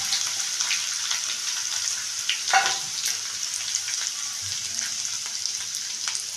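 Grated ginger frying in a pan for Bengali dum aloo, a steady close hissing sizzle with a brief louder burst partway through.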